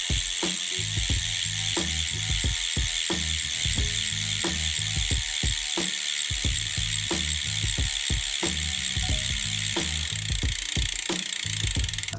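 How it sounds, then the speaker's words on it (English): Rear hub ratchet of a Black Edition bicycle wheelset on a budget TT triathlon bike, buzzing with rapid, loud clicking in uneven bursts as the wheel freewheels, close and with no voices. "I will give you a little sound test on the rear hub because I think it sounds really nice."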